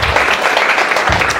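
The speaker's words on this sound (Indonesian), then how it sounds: "Berikan sorak-sorai buat Tuhan" A church congregation applauds and cheers loudly, a dense wash of clapping and voices filling the whole moment without pause.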